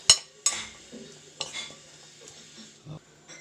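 Onion being stirred into an eggplant mixture for tortang talong, a few separate scrapes and clinks of a utensil against the pan with quiet pauses between them, close and soft, no talking.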